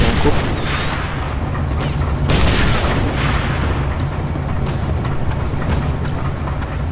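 Loud booming explosions in the video game Code of Honor: The French Foreign Legion crack through a dense, roaring background, with repeated sharp bursts across the stretch.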